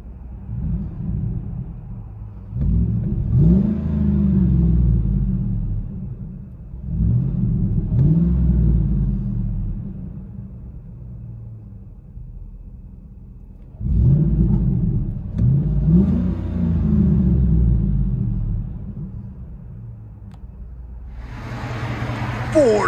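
A 2006 Ford F-150 5.4L Triton V8 with a Carven TR-Series exhaust and 8-inch tip idles with a deep rumble, revving up several times in long swells through a throaty exhaust, heard from inside the cab.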